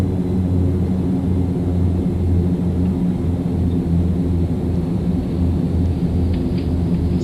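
Fokker F50 turboprop engines at takeoff power in the X-Plane 11 simulator, a loud constant low droning hum with steady rumble and no variation over several seconds.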